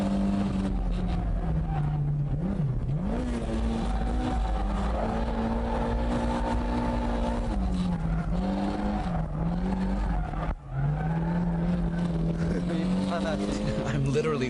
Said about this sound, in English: I'm literally flooring it the entire way.